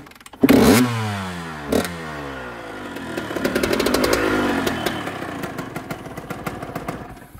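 A motorcycle engine left unused for five years sputters to life after a loud start, then settles into a steady, rattly idle with rhythmic popping exhaust pulses, close and loud with no talking.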